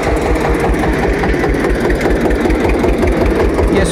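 A tractor engine runs steadily on a farm field where tomatoes are grown, with a loud, close, rhythmic rumbling chug and no breaks.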